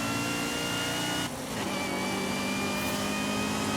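Supercharged 240-horsepower car in the Forza Horizon 5 racing game accelerates hard, its engine holding a loud, steady high-pitched whine and roar that dips briefly as the gear shifts, then climbs again.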